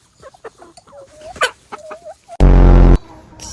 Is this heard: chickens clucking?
yes